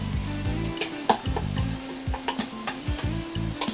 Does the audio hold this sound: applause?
no